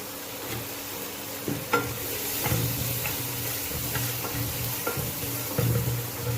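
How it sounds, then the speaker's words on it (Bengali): Chopped garlic and ginger sizzle in hot butter in a pan for masala Maggi. A steady bright crackle plays close by, broken by occasional spoon knocks and stirs, and no one speaks. "বাটারের মধ্যে আমি রসুন কুচি আর আদা কুচি দিয়ে দেব"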